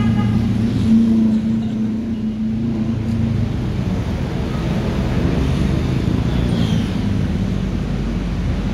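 A bus, ALS 056, pulls away from a depot in Bogor with a steady, loud low engine drone and heavy wind and road rumble throughout, with no pauses.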